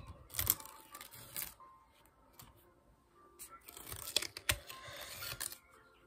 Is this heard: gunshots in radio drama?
no